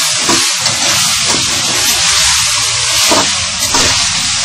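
Chicken Afghani karahi frying in a pan, a loud, close, continuous sizzle and steamy hiss with small crackling pops, steady throughout with no talk.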